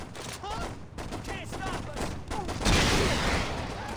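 Saints Row video game gunfire: bursts of rapid shots mixed with voices, building to a louder, denser volley toward the end.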